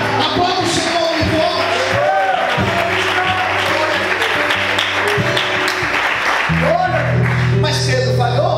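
A church congregation applauds with steady, dense clapping that fills the whole stretch, with a low sustained musical tone running beneath and voices mixed in.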